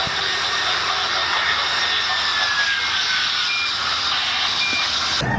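A jet airplane roar is played as a sound effect for a white toy airplane. It is a loud, steady whoosh that lasts the whole time and cuts off abruptly near the end.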